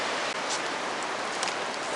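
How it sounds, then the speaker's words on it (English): Steady, dense hiss of rain falling during Storm Ophelia at Cape Lookout, a constant wash of noise with no voices, fairly close and even throughout. "It's still raining."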